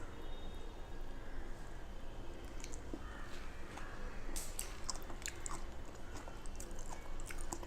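Someone eats raw mango salad close to the microphone, with soft wet chewing and small crunchy bites repeating irregularly over a low steady background and no talk.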